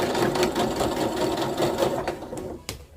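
Sewing machine stitching a seam on a bomber jacket, a steady fast whirring run of needle strokes that slows and stops near the end, close and alone.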